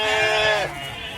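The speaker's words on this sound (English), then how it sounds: "Come on, lammy lambs. Hello, lammy lambs." Sheep and lambs bleating on a farm, one close, loud, wavering bleat that fades out, with faint quieter bleats behind it.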